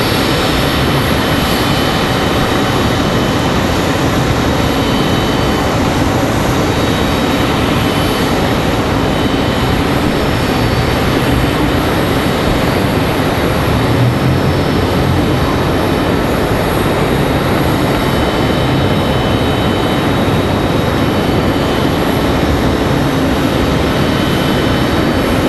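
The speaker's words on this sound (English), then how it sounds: "this is Frontier 2059. It's A321 Neo." Frontier Airbus A321neo jet passing at Raleigh-Durham airport, a steady broadband engine roar that fills the whole stretch at high, even loudness with no talk over it.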